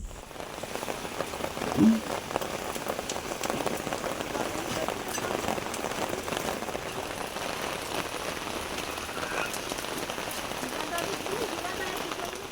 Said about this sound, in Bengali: আর দেখো এখন বৃষ্টিও শুরু হয়ে গেছে আর কি জোরে বৃষ্টি হচ্ছে